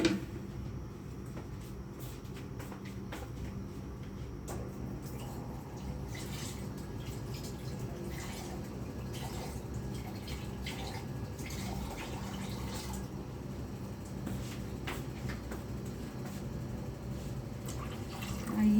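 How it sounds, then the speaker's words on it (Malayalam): Water added to a fish head curry in a pan, a low continuous pour and bubbling with scattered drips and light utensil clinks, steady over the whole stretch. "നമുക്ക് ഇച്ചിരി വെള്ളവും കൂടെ ചേർത്ത് കൊടുക്കാം"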